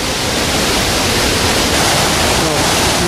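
A resurgence spring pours over a waterfall cascade in a loud, unbroken broadband rush of falling water, filling the whole short stretch close up.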